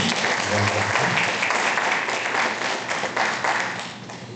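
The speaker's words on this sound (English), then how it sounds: "let's give a clap to meditation" A group at a regional conference of meditation leaders claps together in continuous, fairly loud applause that keeps a steady level with small surges before easing slightly near the end.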